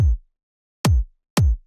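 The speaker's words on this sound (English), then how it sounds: "Kick without effect sounds like this." Three electronic drum-and-bass kick drum hits with no effects, each a deep booming thump with a sharp click and a longer ringing tail, the last two close together.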